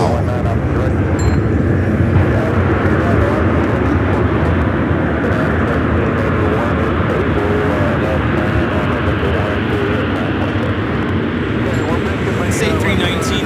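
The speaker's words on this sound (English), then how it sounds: "Say 319 with United coming in from Chicago, flight 1381." A United Airbus A319 jet arrives at LAX from Chicago, a loud, continuous broadband roar of engines and rushing air that stays heavy throughout, with people talking over it.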